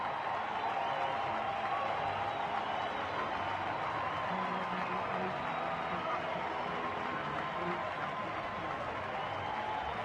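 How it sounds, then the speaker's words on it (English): A baseball stadium crowd cheers steadily after a Cincinnati Reds home run, a dense, sustained roar of voices and clapping that stays loud and even throughout with no pauses. "That gets the crowd on their feet."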